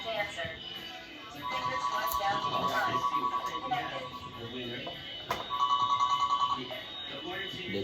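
At a radio station taking listener call-ins, an electronic phone ring trills in two bursts under steady talk from people in the studio.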